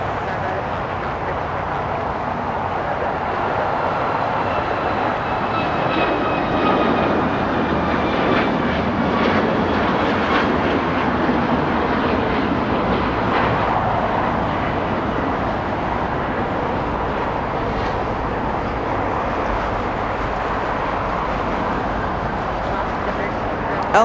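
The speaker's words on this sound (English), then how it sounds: "Alaska heading off to Seattle, flight 1301. That one a 737 MAX 9." An Alaska Airlines Boeing 737 MAX 9 takes off from Los Angeles for Seattle, a strong engine roar building and holding with a faint whining tone, while people talk over it.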